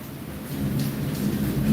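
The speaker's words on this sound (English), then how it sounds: "You hear that thunder?" Deep thunder rolls and rumbles loudly through a steady hiss of falling rain during a rainstorm, building slightly toward the end of the short stretch, with no voices.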